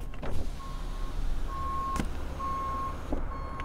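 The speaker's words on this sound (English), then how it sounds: "That backup alarm. That thing is so terribly loud." Backup alarm on a 2019 RAM 3500 Laramie Sport truck, sharp loud electronic beeps repeating about once a second over a low idling engine.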